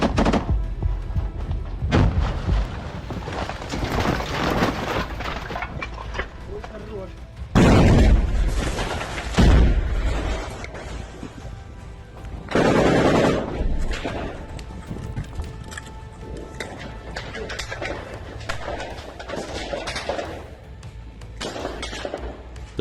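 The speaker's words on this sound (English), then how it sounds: "Again, they throw grenades inside." Grenades explode inside a house during close-quarters combat in a Ukrainian village, mixed with gunfire. Heavy booming bursts stand out over a constant rumbling, crackling battle background.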